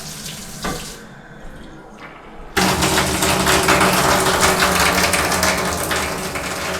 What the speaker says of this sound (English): So we'll run some water through this.